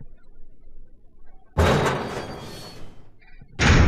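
A door slams loudly in the survival-horror game Resident Evil HD Remaster on PS3, one sharp heavy bang after a quiet stretch, its echo fading over a second before a second loud burst cuts in near the end.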